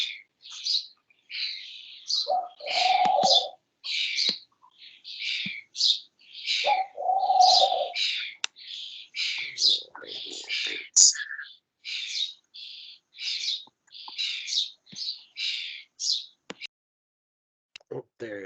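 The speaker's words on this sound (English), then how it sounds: "somebody's got their bird and microphone going there." Bird chirps and tweets come through a microphone during a live online presentation, with rapid high calls repeating steadily throughout, plus a few lower cooing bursts mixed in.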